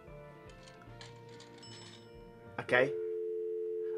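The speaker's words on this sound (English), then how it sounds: "So, use the dime in the phone." Coin dropped into a payphone in the Thimbleweed Park video game, with a short clunk followed by a steady dial tone held at the end, after a stretch of quiet game sounds and a brief spoken word.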